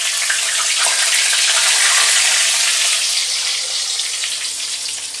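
Bay leaf, whole cardamom, cloves and cinnamon sizzle steadily in hot oil for a chicken dish, a loud, bright, continuous hiss and crackle close up that eases slightly toward the end.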